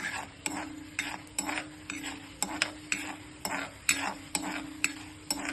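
White urad dal stirred and roasted in a pan, a spoon scraping in a steady rhythm of about a dozen distinct strokes over a faint, constant low sizzle, close and fairly quiet with no talking.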